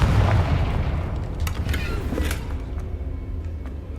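Confringo spell explosion in the video game Hogwarts Legacy: a deep booming blast at the start, then rumbling debris and creaking, sharp crackles fading over several seconds.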